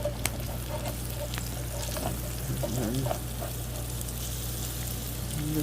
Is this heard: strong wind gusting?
no